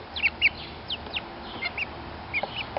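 A hen clucks and chirps softly while being given her first bath, with quick high calls in short bursts over a low background hum.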